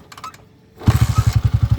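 A 200cc converted motorcycle engine fires up after a quiet start, then settles into a loud, close, even chugging idle with a regular pulsing beat.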